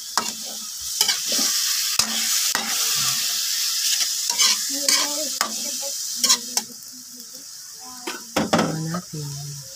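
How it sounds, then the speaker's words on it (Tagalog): Chicken adobo simmers and sizzles in a pan with eggs while a utensil stirs and scrapes it, a steady bubbling hiss broken by repeated clinks and scrapes under intermittent nearby talk. "Yan, kumukulo ng ating adobong manok"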